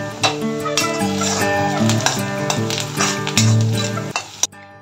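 Onions, curry leaves and green chillies fry and get stirred in a pan, giving a loud, steady sizzle with scraping stir strokes throughout and a brief clatter near the end.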